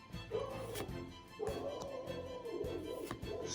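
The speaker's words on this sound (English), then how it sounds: "Don't mind the dog." A dog yips and whimpers indoors, a few short barks and whiny cries at moderate loudness over a background hum.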